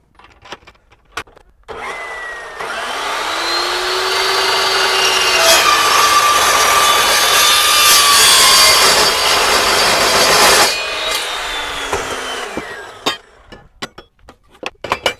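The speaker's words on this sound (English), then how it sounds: "Now cutting something like 2x4 steel, not a problem at all." An Evolution S355 14-inch steel miter saw cuts through steel tubing, a loud, close grinding screech that ramps up, holds for about nine seconds and then winds down, with clicks and clanks before and after.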